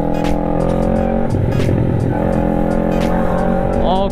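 A car engine revs hard to its limit near the Suramadu Bridge, the pitch climbing and surging over a few seconds, with tire and road noise close by.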